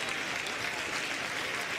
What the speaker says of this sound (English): comes off to good applause, as he might be able to hear here at Cromer Park